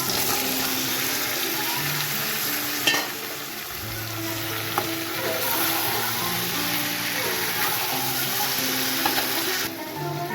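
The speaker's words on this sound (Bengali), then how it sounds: "তখন এঁচোড় আর আলুটা দিয়ে আবার কষিয়ে নেবো" Jackfruit and potatoes sizzling in spiced oil in a pan, a continuous crackling fry with occasional stirring scrapes and clinks, close and steady throughout.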